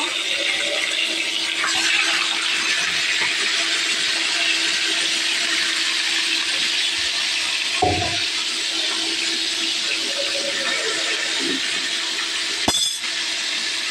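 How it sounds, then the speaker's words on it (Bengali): Fish being fried in a pan in a home kitchen: a steady, bright hiss of sizzling oil filling the whole clip, with a few faint clinks and knocks, fairly close and without voices. "এখন আমি মাছটা সুন্দর করে ভাজা করব।"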